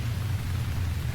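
Rain falls in the survival video game Stranded Deep, a brief, soft, even hiss of steady rainfall with a low rumbling undertone and no voices.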